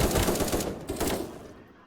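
Rapid gunfire from a weapon in the first-person shooter game Krunker, a dense burst of shots in the first second that thins and fades toward the end, fairly loud with no talk over it.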